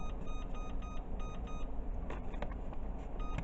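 Kitchen timer beeping while red velvet cheesecake brownies cool: rapid runs of short, high electronic beeps in quick clusters over a steady background hum.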